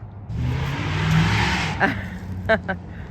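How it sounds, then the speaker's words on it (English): A car arrives and pulls up close by, its engine noise swelling and then easing off, followed by a few short clunks. "I think I hear Eric coming home"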